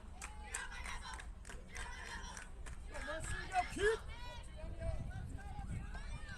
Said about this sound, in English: Very upbeat cheering.